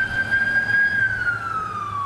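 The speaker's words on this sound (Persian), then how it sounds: "صدای آژیر آمبولانس برای ساکنان نیویورک عادی شده" An ambulance siren wails through New York streets during the coronavirus pandemic, one steady, loud tone that sweeps slowly downward as the vehicle passes, with low traffic rumble underneath and no voices.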